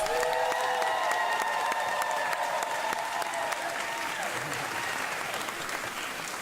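A school-event audience applauds Principal Neal of DC Public Schools in a sustained round of clapping that holds steady and then gradually softens, with no speech over it.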